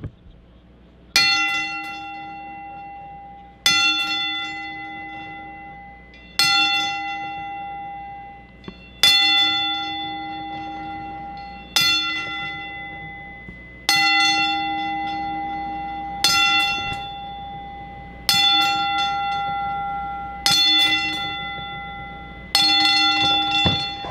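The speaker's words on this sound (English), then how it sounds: "go ahead and do Friday night, tonight, for our Twitch subscribers, 10 Bell Salute, Jerry Jarrett" A bell tolls ten times at steady intervals of roughly two and a half seconds, each loud ring decaying slowly before the next, as a ten bell salute at a PPW professional wrestling event honouring Jerry Jarrett, with no talk.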